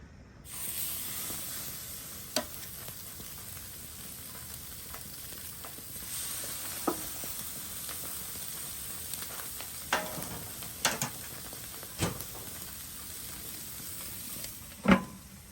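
Pork tenderloin sizzles on a grill as a steady, quiet hiss, broken by a few sharp pops and crackles.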